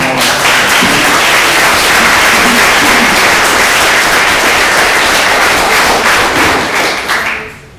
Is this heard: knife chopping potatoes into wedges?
no